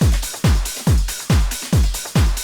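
Raw, driving drums built on breakbeats with a distorted 909 kick. Six heavy, booming kick hits land at a steady pulse under gritty noisy layers, loud and close, with no voices.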